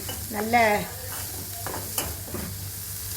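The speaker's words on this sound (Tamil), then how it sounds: "போட்டு ஒரு கிண்டு கொடுங்க" Ingredients for kara kozhukattai stirred and fried in oil: a few scraping strokes of a spoon in the pan over a low, constant sizzle, with a short vocal sound near the start.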